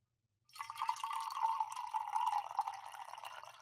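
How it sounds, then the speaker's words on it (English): Coffee poured from a pour-over pitcher, a steady close trickle of liquid that starts abruptly after a brief silence and runs on without pause, soft and alone. "That's coffee pouring from coffee. A pour-over pitcher, not."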